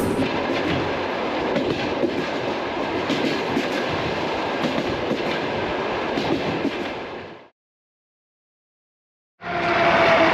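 Kyrgyzstan's post-Soviet sleeper train running on rails, a steady dense rumble and rattle heard from inside that cuts to near silence before resuming.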